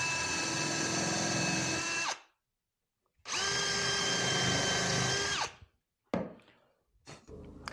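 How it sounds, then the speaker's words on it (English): A power drill with a countersink bit boring into wooden boards for a sled: two loud, sustained whines of about two seconds each, separated by silence, then a few short knocks and brief spin-ups. "I am just using a drill that has a countersink bit, and go ahead and countersink these guys into their places"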